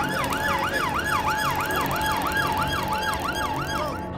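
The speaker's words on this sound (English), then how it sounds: "I can hear the sirens of my colleagues turning up." A police siren wails loud and close, sweeping up and down in a fast, even rhythm for several seconds with no talking over it.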